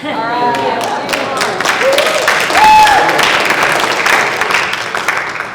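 Audience applause at a council presidents seminar, a steady patter of many hands clapping through the room, with voices talking over it and some whistle-like tones rising partway through.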